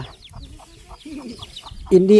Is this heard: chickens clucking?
yes